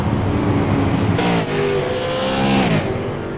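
Race car engines in a sim racing esports event at Southern National Motorsports Park rev and accelerate loudly, with rising engine pitch sweeps and several cars layered close together, and no talk.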